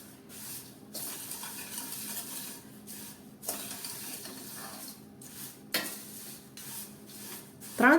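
Papad poha chivda being stirred in a hot pan, a steady scraping and rustling of dry flakes against metal with faint sizzle, repeated in even strokes and ending in a louder clatter.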